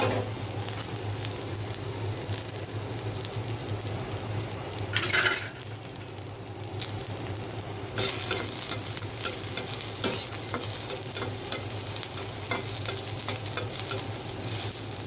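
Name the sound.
onions frying in oil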